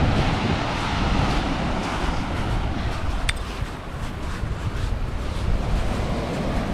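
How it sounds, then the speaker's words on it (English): Waves wash onto a beach in a continuous, loud roar of surf mixed with heavy wind buffeting the microphone, steady throughout with no talk. "On the beach."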